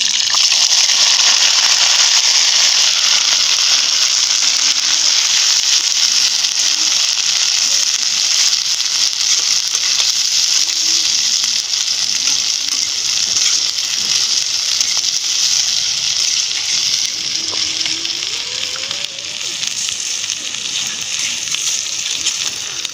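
Garlic, onion and chili frying together in a hot pan, a steady loud sizzle holding throughout with faint clinks of stirring and no talk.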